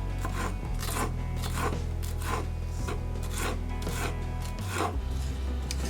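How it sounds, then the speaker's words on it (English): A knife finely minces cilantro and jalapeno on a cutting board in a steady series of quick rasping chops and scrapes, close and fairly quiet over a low background hum. "Okay, we're gonna do a fine mince. Cut these right around 1/8 of an inch."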